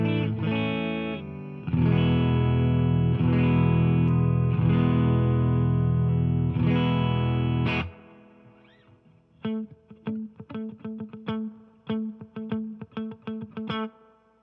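Electric guitar played through a Fender Tone Master Pro modelling a Deluxe Reverb amp into a 1x12 cabinet: long sustained distorted chords first, then a run of short, punchy picked bass-line notes, loud and close with no talk.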